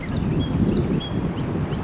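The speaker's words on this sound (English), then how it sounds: "look at the wind just ripping across that point." Strong wind rips across a lake point and roars as a steady, loud low rumble buffeting the microphone, with no other sound standing out.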